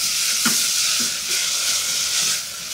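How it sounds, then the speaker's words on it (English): Finely chopped onions sizzle loudly in a hot pan, a constant bright frying hiss broken by a few soft scraping knocks as the spoon stirs them, with no voices. "So whilst those onions are cooking away"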